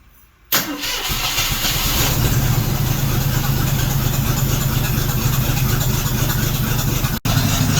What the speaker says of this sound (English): Let's just crank it over a little bit, see if it starts back up.